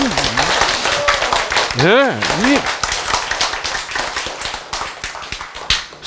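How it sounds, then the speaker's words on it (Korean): A church congregation claps during a Korean sermon, giving a steady patter of hand claps that runs under a preacher's loud, continuous speech. "박수!"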